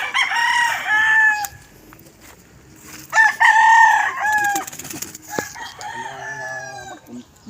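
Fighting cocks crow loudly nearby, one long crow followed by another, with the second breaking into clucking and rustling toward the end.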